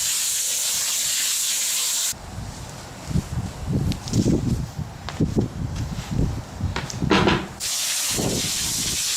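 A garden hose sprays water over the root ball of a pepper plant being readied for transplanting, a close, steady broadband hiss with splashing and spattering bursts that rise and fall for several seconds before the flow evens out.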